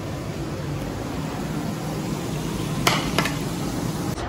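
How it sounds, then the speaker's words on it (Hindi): Potatoes fry in a pan with a steady, close sizzle and hiss, broken near the end by a couple of short clinks or scrapes of a utensil against the pan. "पहले आलू फ्राई कर लूँ फिर ये।"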